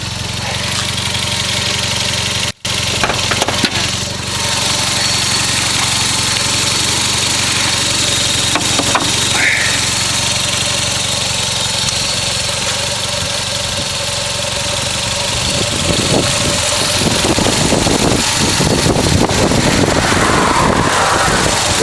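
A Toyota Celica GT-Four ST205 engine idles steadily for a long stretch, recorded up close in the engine bay with a new timing belt and missing cover, its loud, even hum briefly cut and then returning with clattering rises toward the end.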